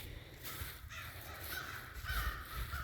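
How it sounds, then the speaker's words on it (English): Crows caw repeatedly over a steady outdoor hiss, harsh calls coming in bursts from a short distance. "And those crows are really noisy, wow."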